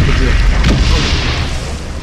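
A cannon fires in the World War I video game Valiant Hearts, a loud deep boom with a rumbling tail that fills the whole moment and fades slowly.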